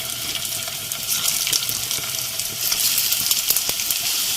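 Maggi noodle pakora balls fry in hot oil in a pan, a loud steady crackling sizzle with bubbling pops throughout, close up and alone.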